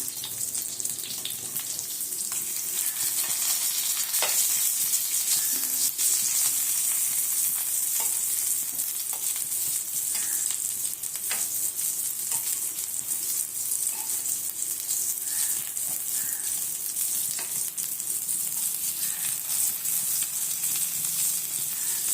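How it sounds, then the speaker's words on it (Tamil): Prawn vadas frying in hot oil give a steady, loud sizzle with a dense crackling hiss that holds evenly throughout, broken only by faint clicks and small splutters, with no voices. "இதே மாதிரி எல்லாத்தையும் நல்லா சுட்டு எடுத்துட்டு நம்ம பார்க்கலாம். திருப்பி போட்டுக்கலாம்"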